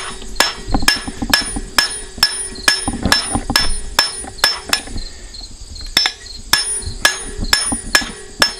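A blacksmith hammering hot iron to draw out a taper, sharp ringing metallic strikes in a quick steady rhythm with a brief pause midway, close and loud, each blow leaving a bright anvil ring.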